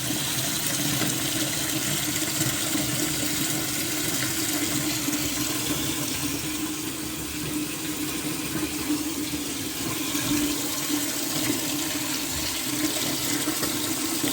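A repaired toilet flushing and its cistern refilling, a continuous loud rush of water that holds steady for the whole stretch, close by and without voices.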